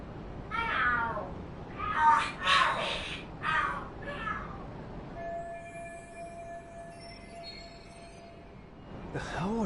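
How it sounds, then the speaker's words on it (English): Cats yowling and screeching in a fight in the video game Lost Judgment, several loud harmonic wails in bursts over the first few seconds, then a thin sustained tone and quieter background. "Are there cats fighting?"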